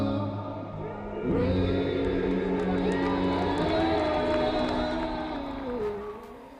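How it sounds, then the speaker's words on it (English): Stadium crowd at a college lacrosse game between Chapman and Grand Canyon University cheers and whoops right after the national anthem ends, a loud sustained swell of many voices that rises abruptly and then tapers off. "And you can hear the energy right now going on in the crowd."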